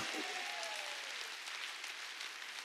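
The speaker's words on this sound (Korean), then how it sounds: "박수야." A crowd's applause, steady and fairly distant, fills the whole moment as a dense wash of clapping.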